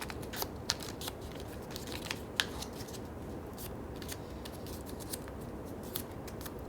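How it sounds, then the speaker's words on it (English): Paper rocket fins being folded and creased give soft, close crinkles and sharp little clicks over a quiet background. "Now I'm going to fold these 3 fins."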